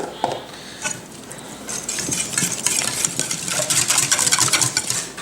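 Ricotta cheese being stirred into a quiche filling in a bowl, with soft, irregular scraping and clinking of the utensil growing busier and louder toward the end.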